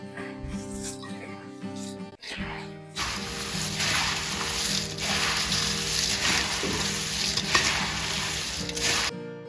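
Fried puffed rice chevda with papad is tossed and mixed in a large pan, making a dense, dry, crackling rustle that starts after a brief voice and some clinks and keeps going steadily.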